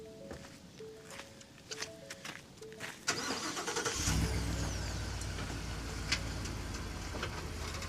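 A vehicle engine cranks and catches after a few beeps and light footsteps, then settles into a steady, close idle.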